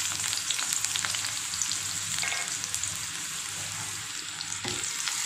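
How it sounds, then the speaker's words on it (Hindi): Sliced onion frying in hot oil in a kadai, a continuous close crackling sizzle with occasional light stirring scrapes, no voices. "इसको अच्छे से फ्राई कर लेते हैं।"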